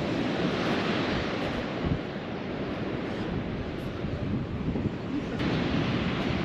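Ocean surf on the Moroccan west coast roars continuously as a broad, steady wash of breaking waves, mixed with wind buffeting the microphone and no talk.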